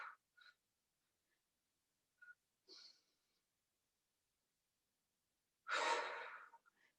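A forceful breath pushed out during an experienced-level Pilates workout, heard as a loud, breathy burst near the end after a few soft, short breaths spaced through otherwise quiet moments.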